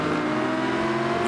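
A Dodge Challenger and a Lamborghini Huracan rev hard in a drag race in the BeamNG driving game. The engine roar is loud, close and steady in a brief burst.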